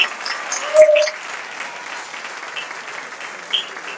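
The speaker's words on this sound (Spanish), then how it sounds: "muy fuerte aplauso para ella" Applause from the audience at the closing ceremony of the Kayak Surf Worlds in Argentina, a steady wash of clapping at moderate volume with a short bright tone near the start.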